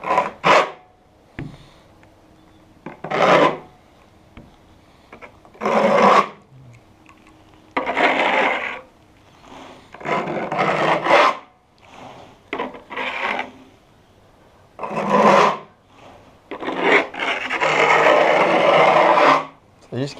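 Repeated rasping scrapes of a trowel spreading filler over plywood on a homemade boat, coming in bursts separated by short pauses, close and fairly loud.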